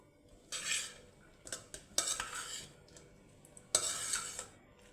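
Spatula scraping and clinking against a pan while fried rice with chicken and egg is mixed, in three short bursts of stirring separated by brief pauses, close and moderately loud with no talking.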